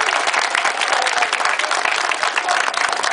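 A crowd at an anti-internment rally in Belfast breaks into applause: sustained, dense clapping that fills the whole moment at a steady level, with no break or voice over it.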